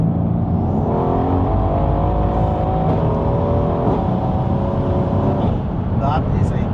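An 800 bhp super saloon's engine roars steadily after dropping a couple of gears, its pitch climbing and holding as it pulls hard at speed, loud and continuous from inside the car while people talk.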